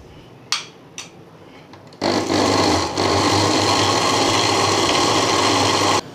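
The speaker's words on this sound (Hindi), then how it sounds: "ये नमक जो लिया था वो भी इसमें ऐड करके अच्छी तरीके से ब्लेंड कर लेंगे।" A couple of sharp clicks, then a blender roars on loud and steady for about four seconds, blending falsa berry sharbat with black salt, with no talk.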